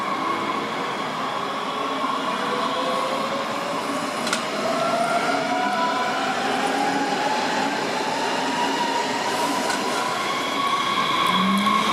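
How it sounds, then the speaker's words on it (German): An S8 S-Bahn commuter train heading to Wiesbaden Hauptbahnhof departs from platform 1 at a station near Bischofsheim, a loud, steady electric motor whine rising in pitch with rolling wheel noise as it accelerates, no talk. "Wir beobachten jetzt auf Gleis 1 die Abfahrt einer S8 in Richtung Wiesbaden Hauptbahnhof."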